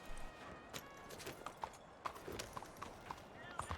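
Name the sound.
horse hooves clip-clopping, Red Dead Redemption II video game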